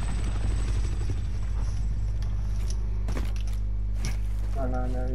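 Supply helicopters arrive in a video game with a close, loud, throbbing rotor drone that continues throughout, while sharp clicks and clanks cut in and a voice speaks over it.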